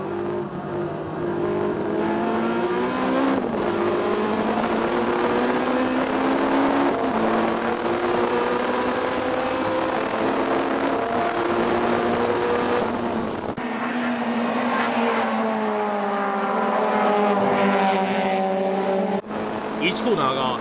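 Light front-drive and rear-drive Honda VTEC race cars accelerate hard on a drying circuit, engines screaming up through the gears with abrupt shift drops and one car passing close, a commentator talking over the noise throughout.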